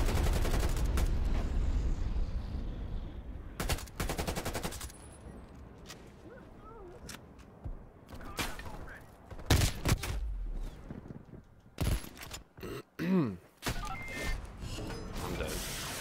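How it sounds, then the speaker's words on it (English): Video game gunfire in Call of Duty Black Ops Cold War: bursts of sharp shots and mechanical clatter come in clusters, loud and close, with quieter gaps between volleys. "Somebody was shooting at me"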